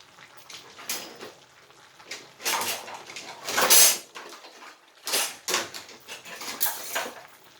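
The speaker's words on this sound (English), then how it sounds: "we're going to go ahead and give this a stir up" Collard greens with smoked turkey tails are stirred in a pot, a spoon scraping and clanking against the metal in repeated rough bursts, close and fairly loud.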